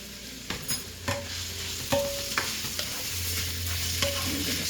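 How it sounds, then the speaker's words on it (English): Onions, celery, scallion and dried thyme sizzle steadily in a pan while a spoon stirs them, the constant frying hiss broken by repeated scraping and light clinks against the pan. "I'm going to stir this around."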